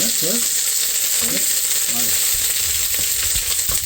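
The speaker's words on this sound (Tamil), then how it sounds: "இப்போ நம்ம இது எல்லாம் உள்ளுக்கு போட்டு நல்லா வதக்கிட்டு" Ingredients for a coconut chutney sauté in a hot pan, with a dense, steady sizzle throughout and a few brief scraping stirs near the start.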